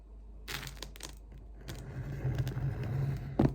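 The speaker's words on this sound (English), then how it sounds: "instead of a knife, let's just use some scissors" Scissors cut into the packaging of an Apple TV 4K box, giving several quick snips and crinkly crunches at close range, with a steady low hum underneath.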